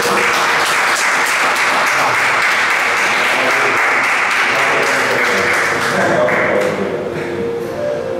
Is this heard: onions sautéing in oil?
no